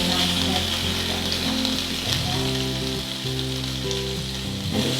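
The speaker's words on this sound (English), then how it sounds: "it's lovely for halloumi because you'll find you can hear that sizzle" Halloumi and asparagus sizzle loudly on a griddle over a Neff flexi-induction hob, a steady dense crackle that runs throughout, with a low hum underneath.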